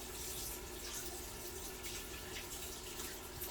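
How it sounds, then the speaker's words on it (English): A kitchen sink tap runs steadily while hands are rinsed under it, a close, continuous hissing splash of water with no talk over it. "I'm going to rinse my hands off before I put like lemony salty hands in my cabinet"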